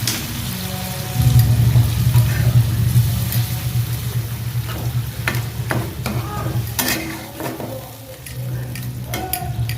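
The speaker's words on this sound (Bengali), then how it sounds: "মাছটা দেওয়ার পরে কষানো হয়ে গেছে, এখানে আমি একটু জল দিয়ে দিচ্ছি পরিমাণ মতন।" Fish curry cooking in a pan after water is added, with a loud close sizzle and bubbling, stirring scrapes and clinks over a steady low hum.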